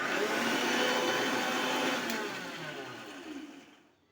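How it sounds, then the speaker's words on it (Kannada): An electric mixer grinds red chilli masala with a loud, steady motor whir that lasts about two seconds, then winds down and fades to silence. "ಮಸಾಲೆ ಮಿಕ್ಸರ್ ಮಾಡ್ಕೋಬೇಕು"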